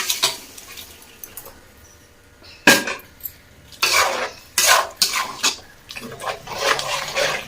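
A spoon scrapes and clanks against a metal pot while mutton curry with masala is stirred, giving sharp irregular metallic knocks and scraping bursts close by, with no talking.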